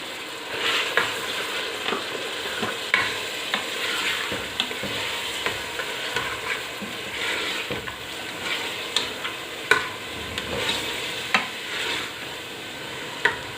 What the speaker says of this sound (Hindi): ऑयल के अंदर फ्राई करूंगी गोश्त को थोड़ा सा